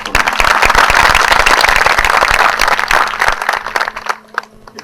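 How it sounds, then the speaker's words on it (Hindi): Audience applause at a tribute concert for Ustad Bismillah Khan, a dense, loud burst of many clapping hands that holds steady for about four seconds and then thins out and fades. "मैं फिर से तुला भाई के नाम पर ताली बजाने के लिए आपको"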